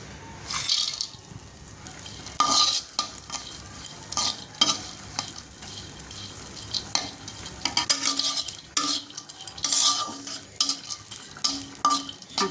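Pieces of dried mola fish fry in a hot kadai, with bursts of sizzling and scraping as they are stirred, rising and falling in short loud spurts close by.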